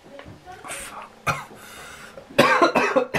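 Coughing fits after eating Walkers Max Strong chilli and lime crisps, with one sharp cough near the start of the clip and a louder burst of harsh coughs toward the end, close up, along with breathing and throat noise.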